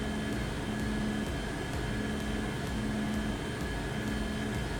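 A Boeing 757 jet climbing after takeoff in X-Plane 10, a steady, dense engine roar with a constant high whine and a faint recurring tone pulsing beneath it.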